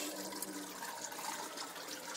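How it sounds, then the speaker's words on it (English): A bathroom faucet runs steadily, a quiet, continuous hiss of flowing water heard from some distance, with no voices. "I'll go ahead and turn on the bathroom faucet."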